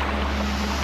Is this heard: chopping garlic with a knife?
no